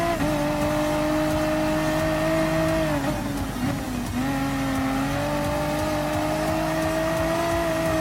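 Lamborghini Huracan race car engine in the video game Gran Turismo Sport, a loud sustained high-revving drone that dips briefly during a gear change and then climbs again.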